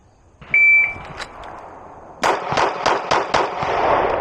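Ten shots from a pistol at a shooting range: a loud beep first, then a series of sharp, evenly spaced close reports in quick succession, with no talking.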